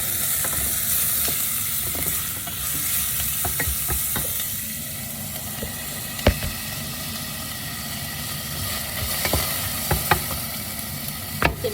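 Stirring and sautéing in a pan for chicken afritada, a steady soft sizzle with scattered scraping clicks of a utensil against the pan, close by and without talk.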